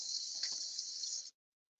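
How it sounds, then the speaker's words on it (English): Water runs steadily from a tap into a big cup in a kitchen, a continuous close hiss of filling that holds for over a second and then stops abruptly. "you're going to fill it with water."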